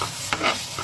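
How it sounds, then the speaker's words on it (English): A spoon scrapes and stirs a fish stuffing mixture in a pot for Senegalese thieboudienne, with short wet swishes and a couple of brief scrape accents over a faint sizzling background. "So I'm just going to add that into it and give it a good mix as well."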